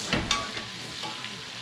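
Seasoned beef tenderloin set down in a cast iron skillet hisses into a loud, broad sizzle that stays close and steady for a moment.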